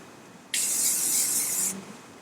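A single close burst of hairspray hisses for just over a second, sprayed onto hair while an updo is smoothed and held.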